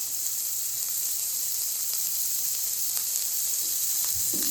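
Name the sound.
amudi fish with salt and green chilli sizzling and stirred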